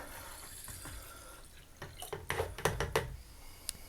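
Water from a Niagara Conservation Luxury 1-spray chrome showerhead running into a jug, a soft steady spray with irregular splashing and dripping that grows louder toward the end.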